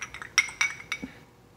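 Metal Puffco atomizer clinking against a glass holding boiling alcohol, a few sharp bright taps close by, then fading to quiet.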